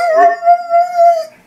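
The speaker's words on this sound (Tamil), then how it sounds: "ஐயோ, நாய் வேற அழுதுட்டு இருக்கே" A single dog gives one long, steady howl lasting over a second, loud and close, with a brief yelp at its start and no other sounds around it.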